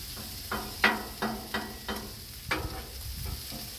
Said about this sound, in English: salmon, leave it alone. We're gonna let it just cook.